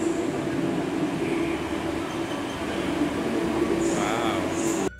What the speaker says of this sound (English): And this is now, I think, the train that we will be riding.